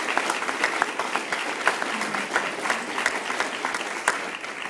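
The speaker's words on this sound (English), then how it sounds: "let's give him a round of applause" A seated audience claps steadily at an event celebrating a couple married 45 years, dense continuous applause of many hands at moderate loudness with no one speaking.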